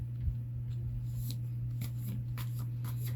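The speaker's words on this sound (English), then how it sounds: "I don't know if I can shuffle all these" A deck of cards being shuffled by hand, quick soft riffling flutters in several short bursts over a constant low hum, fairly faint and close.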